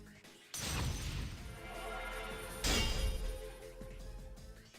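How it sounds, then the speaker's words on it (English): Two fighting personas collide in Persona 4 Arena Ultimax with a glass-smashing crash. Two loud, bright bursts cut through a continuous bed of game sound. "clashes with my own persona in a sound like glass smashing in a glass"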